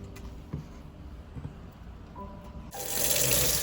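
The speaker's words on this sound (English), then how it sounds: "Trying to wash it all. Swish it around in the water." Spearmint leaves are washed in a kitchen sink with slightly warm water, first soft scattered splashes and handling, then a tap gushing steadily into the basin for the final second.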